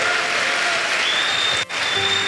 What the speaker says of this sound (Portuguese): Dê um aplauso ao Senhor com alegria